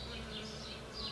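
A bee buzzes close by in a short, wavering drone that rises and falls in pitch as it moves, fairly quiet against a calm background with no talking.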